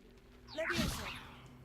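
A Leviosa levitation spell cast in a Hogwarts video game gives a single rising magical whoosh with shimmering tones, swelling quickly and fading over under two seconds, fairly quiet.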